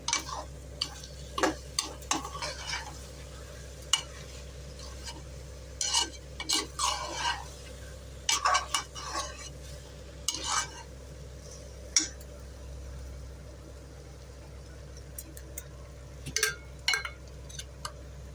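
Rice and prawns sautéing in a pan for seeraga samba prawn biryani: quiet, scattered scraping and clinking of a spatula against metal over a low steady hum, stirring strokes coming in irregular bursts.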